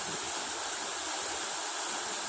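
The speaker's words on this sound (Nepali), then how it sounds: "झरना" The Wagne waterfall in the Resunga area of Nepal pours in a steady broadband rush, continuous and even throughout with no voices.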